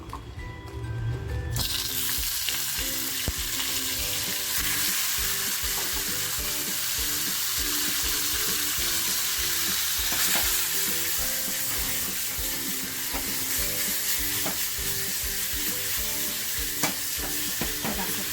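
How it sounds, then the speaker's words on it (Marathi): Cut chicken leg pieces frying in hot oil for Nagpur-style Saoji chicken, a loud, dense, continuous sizzle with stirring scrapes throughout, close up, after a brief different noise at the very start. "आता फक्त चिकनला आपण हलकंसं फ्राय करून घेणार आहोत"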